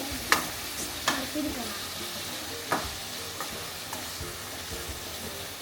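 A spoon stirs macaroni with tomato and capsicum frying in a pan, with steady sizzling and a few clinks of metal against the pan at irregular intervals, close and moderately loud.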